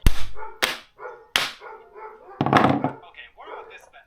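A dog barks sharply several times close by, loud separate barks with whimpers and yips in between, in a workshop during a 1970s moped rebuild.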